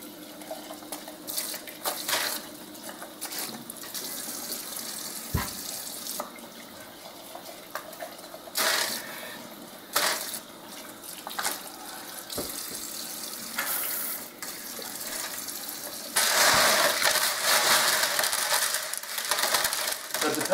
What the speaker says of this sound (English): Depending on your sink, dump it right in there and just start rinsing.